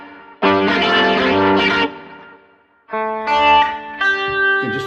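Two bursts of strummed chords ring from an electric guitar with a carbon neck, gritty with mild natural overdrive, separated by a brief silence, the second phrase broken into shorter hits; close and loud with no talking.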